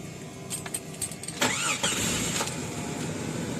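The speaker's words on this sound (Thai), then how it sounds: "เดี๋ยวลองติดเครื่องดูกันนะครับว่าติดเครื่องยากไหมนะครับ" A 2000 Jeep Cherokee XJ starts from cold after a few clicks and key sounds, the starter cranking briefly before the engine catches and settles into a steady idle nearby.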